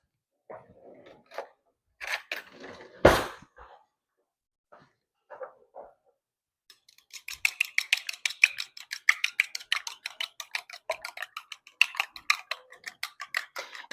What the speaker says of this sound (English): 1 egg, beaten. I'm going to grab a fork.